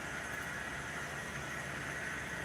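A model train runs on a club layout, its steady whirring rumble and hiss continuing evenly throughout without a break.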